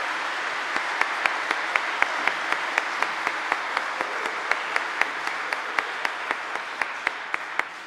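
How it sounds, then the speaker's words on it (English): A church congregation at a confirmation Mass applauds the newly confirmed young people, with soft, even, somewhat distant clapping and a few louder individual claps ringing out at a regular beat. "please stand and give them a round of applause"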